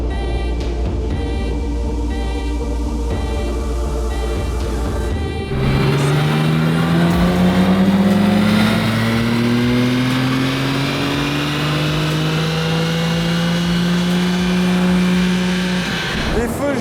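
BMW M4 CSL with a tuned twin-turbo engine of about 730 horsepower idling low, then revving up hard and holding high, close and loud, with a person speaking over it.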